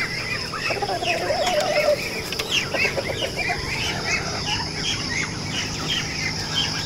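Chickens cluck and chatter continuously in an open yard, several birds nearby giving short repeated calls over steady outdoor background noise.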